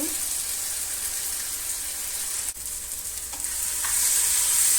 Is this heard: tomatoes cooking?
yes